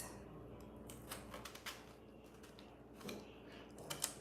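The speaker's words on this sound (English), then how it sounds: "You cut it like that, and then you cut it all the way down" A knife cuts down through a pomegranate, giving faint scattered ticks and crisp cutting clicks close by in an otherwise quiet kitchen, with no talking.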